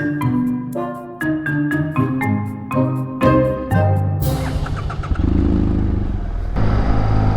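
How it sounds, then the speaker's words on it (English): A BMW GS motorcycle with a defective aftermarket exhaust rumbles steadily as the bike pulls away and accelerates on the road, the engine note rising and holding at a fairly moderate loudness. "So right away you can tell that the exhaust tone is not loud at all."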